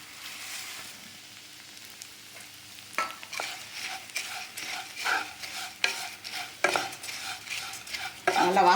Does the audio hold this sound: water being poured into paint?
no